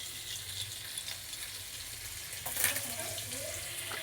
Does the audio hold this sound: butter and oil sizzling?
yes